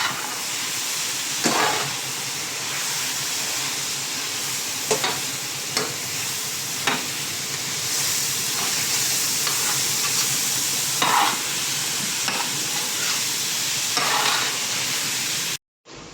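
Vegetable dum biryani ingredients are being stirred together with yogurt in a large pot, a steady wet scraping and squelching with periodic louder spoon strokes throughout, and no voices.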